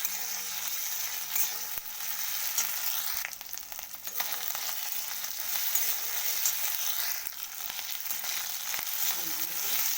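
Ginger garlic paste hits hot oil for a jackfruit curry, giving a steady, moderately loud sizzle of frying that runs evenly throughout with a few faint scrapes and clinks, and no talking.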